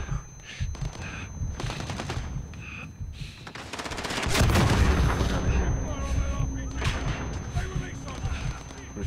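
Rapid automatic gunfire and explosions ring out in the video game Modern Warfare, bursts starting sharply and swelling into a sustained loud barrage midway, with players talking intermittently over the action.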